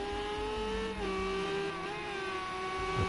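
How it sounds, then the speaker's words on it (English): Renault Megane V6 race car held stationary with wheels spinning in a burnout, its engine droning at steady high revs with shifting tonal whine, loud and continuous throughout. "stopped and wheel spinning. Bit of a burnout for the crowd."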